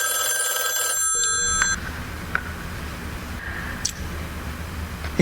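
An old-fashioned telephone bell rings in a radio drama, a bright metallic ring for under two seconds before cutting off, leaving a quiet hiss with a few faint clicks.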